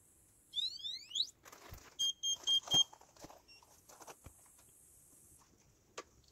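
An electric winter fishing reel on a rough homemade test rig whirs in short motor bursts mixed with a few high electronic beeps and clicks, close and fairly quiet, with no talking.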